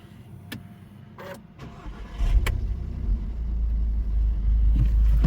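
A 2016 Volkswagen Golf R with stock exhaust is started with a push button: a brief starter crank, then the engine catches and settles into a loud, steady idle rumble that continues to the end.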